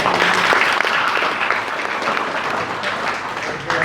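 An audience breaks into sustained applause at a motivational stand-up talk, a dense crackle of many hands clapping that fades slightly toward the end, with no speech over it.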